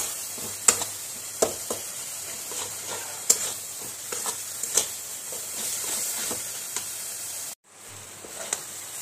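Melted jaggery filling for village-style modak being fried in a pan, a soft continuous sizzle broken by sharp spatula scrapes and taps at irregular intervals, briefly cutting out near the end.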